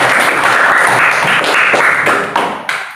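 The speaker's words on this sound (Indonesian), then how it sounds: "Beri tepuk tangan untuk Kalista." Students in a classroom give a short burst of close, loud applause for a classmate, brisk hand clapping that tapers off with a few final isolated claps.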